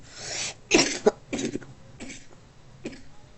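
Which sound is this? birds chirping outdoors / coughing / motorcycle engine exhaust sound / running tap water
coughing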